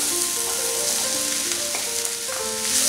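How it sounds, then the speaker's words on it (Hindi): Mushrooms fry with mixed vegetables in a pan, a loud, dense, continuous sizzle with faint tonal notes running underneath and no talking. "मशरूम को अभी हम 1 मिनट के लिए फ्राई कर लेंगे"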